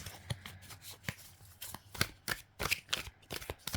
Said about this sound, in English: I have shuffled, I can assure you.